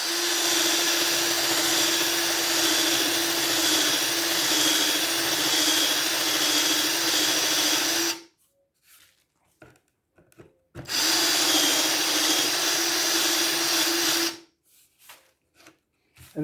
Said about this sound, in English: we drill the 2 holes in the flooring with the Forstner bit